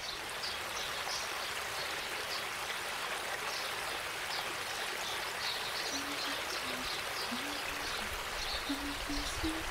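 A stream flows in a storybook scene, heard as a steady, dense rush of water that fills the whole stretch without pause and stays fairly close.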